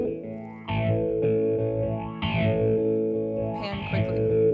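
Sustained distorted, effects-laden music track with a triangle-wave pan automation applied in Cakewalk, swinging the sound between speakers; chords change a few times, loud and steady with no talk.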